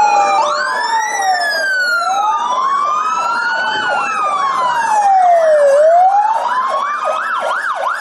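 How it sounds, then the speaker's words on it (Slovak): Wailing police car sirens sound loud and close on a city street outside a court and remand building, their rising and falling tones overlapping continuously with traffic underneath. "Policajné autá na majákoch"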